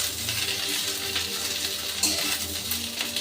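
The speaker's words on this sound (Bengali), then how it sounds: "এবার তেলের সাথে ভালো করে নেড়ে নেব।" Boiled, squeezed-dry gourd leaves being stirred and fried in oil in a village-style Bengali kitchen: a steady close sizzle and crackle with occasional scraping strokes, continuous throughout, with no talking.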